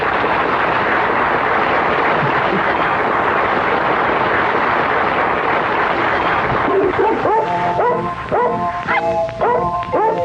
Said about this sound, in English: Hey, look, that must be the singing dogs coming out now.